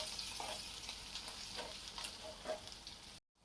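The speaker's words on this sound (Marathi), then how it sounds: "अद्रक आणि लसूण घालून घ्यायचं आणि ही हिरवी मिरची तर या अद्रक आणि लसणाचं एक स्मेल जाईपर्यंत याला आपण तेलामध्ये होऊ देऊ" Ginger, garlic and green chili fry in hot oil for a vala bean pod vegetable dish, a soft, steady sizzle with faint crackles and stirring taps that cuts off abruptly at the end.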